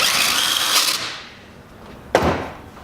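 A power drill drives screws into the heater box of a 2000 Jeep Cherokee Sport, with one sustained whirring run that fades out, followed by a single sharp knock or clack.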